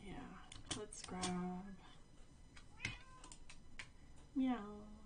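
A cat meows several times in a Minecraft-style block-building game, with drawn-out, tonal mews spaced across a few seconds, heard clearly and close, with no talking over them.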